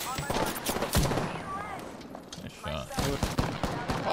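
Rapid gunfire in Apex Legends, with sharp, repeated shots and bursts scattered throughout, sitting under players' excited voice chat.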